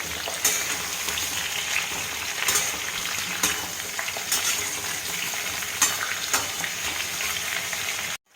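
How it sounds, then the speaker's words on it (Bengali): Teasel gourd and potato strips frying in oil in a pan, a continuous close sizzle broken by repeated sharp scrapes and clinks of a spatula stirring against the pan, then cutting off abruptly. "আমার কিন্তু কাঁকড়গুলো এখনও সম্পূর্ণ ভাজা হয়নি"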